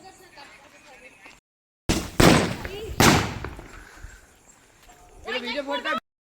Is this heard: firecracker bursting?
yes